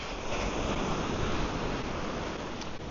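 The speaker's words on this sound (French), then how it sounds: "Depuis ici, c'est des vagues comme ça." Ocean surf on a Dominican Republic beach at a Samana resort: a steady, loud broadband roar of breaking waves that fills the whole span, with no voices.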